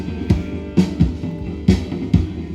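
Heavily compressed kick drum from a rock mix, processed with an R Bass plugin and carrying guitar bleed, thumping five times in an uneven pattern, each hit punchy and close with a short pumping tail.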